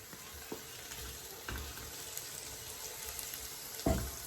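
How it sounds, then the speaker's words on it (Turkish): Harira soup being stirred in a pot, with soft scraping and sizzling at low level and a few brief knocks of the spoon against the pot. "Güzel bir şekilde karıştırayım."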